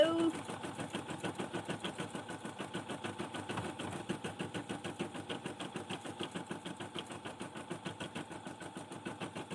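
An embroidery machine stitches designs with a steady, fast rhythmic chatter that runs throughout, close and fairly loud, with speech over it.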